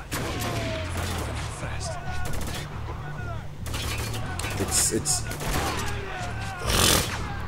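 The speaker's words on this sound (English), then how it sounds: "Who the fuck is shooting?" Gunfire in a first-person shooter video game, with repeated shots and bursts crackling through a busy battle soundscape, mixed under a voice talking.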